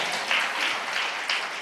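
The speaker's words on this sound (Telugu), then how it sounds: "అందరూ చప్పట్లు కూడా దేవుని నామాన్ని కనపరచండి" A church congregation at a Sunday morning Holy Communion service bursts into applause, a broad, sustained roar of many hands clapping together, fairly loud and even with occasional stronger swells.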